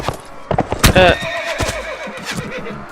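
A horse whinnies loudly in the Mount and Blade Warband video game, with hoof clip-clop and faint battle noise around it.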